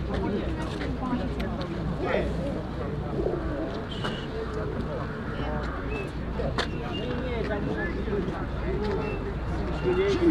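Pigeons coo amid a crowded bird market in Łomża, their soft calls steady under constant chatter of people nearby.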